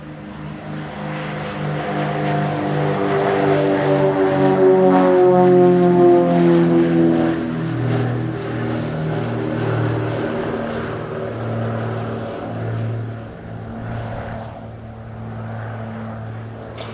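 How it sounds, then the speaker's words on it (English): An Extra 330LX aerobatic propeller plane performs a flying display at RIAT, its engine droning loudly with rising and falling pitch sweeps as it climbs, dives and passes overhead, fading slightly toward the end. "The beautiful Extra 330 LX is probably the best aerobatic aircraft"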